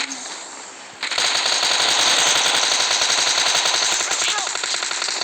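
Gunfire in a first-person shooter video game: after a quiet moment, a loud sustained burst of rapid automatic fire rattles on continuously and close up.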